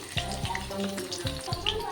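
Potatoes fry in hot oil in a home kitchen, a soft, steady sizzle punctuated by a few short clinks and stirring sounds, with no talking.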